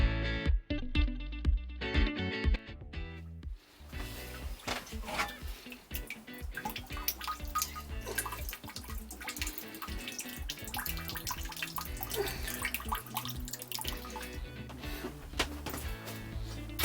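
Water runs steadily over a grain mash during the sparge of a NEIPA homebrew, after a pump is switched off; a continuous near splashing and trickling flow fills the whole stretch, with a few knocks and clatters near the start.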